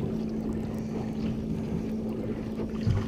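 Pleasure boat motoring past on a lake where catfish are being fished, a steady low engine drone with wind noise, moderately distant and constant, with no talking.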